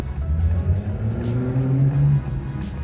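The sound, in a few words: Honda Fit car driving in rural Japan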